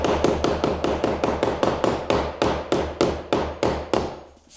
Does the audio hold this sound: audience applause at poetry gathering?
no